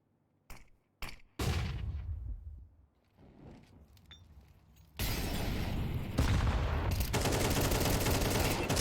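AK rifle gunfire in a Counter-Strike 2 match: a couple of sharp isolated shots, then a sustained burst, a lull with faint activity, and heavy continuous rattling fire at the end.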